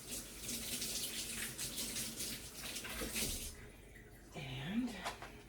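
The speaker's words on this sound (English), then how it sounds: "Let me give my hands a quick wash." Water runs from a tap in a steady splashing stream while hands are washed, then stops partway and starts again as a brief tonal gurgle sounds near the end.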